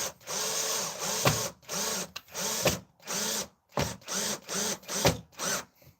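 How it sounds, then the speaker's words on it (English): A power drill whirs in repeated short bursts, about a dozen pulses, close by and fairly loud, as a screw is driven in while assembling a Partscaster guitar. "I think I have to just do it, like drill it down."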